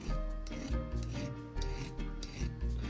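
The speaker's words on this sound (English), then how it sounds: "So that means you have to sand that down." A sterling silver ring seam is sanded by hand in repeated rasping strokes, close up and steady in rhythm.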